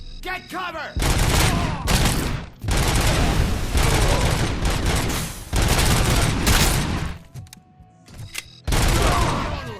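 Automatic weapon fire in the video game RoboCop: Rogue City, loud sustained bursts of rapid gunfire separated by short pauses, with a few booms mixed in.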